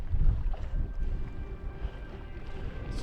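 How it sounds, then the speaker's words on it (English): Gusty wind buffets the microphone with low rumbling bursts while backpacking near South Colony Lakes and Humboldt Peak, Colorado, loudest at the start, then settling into a steady blustery roar. "it's very windy and I'm cold"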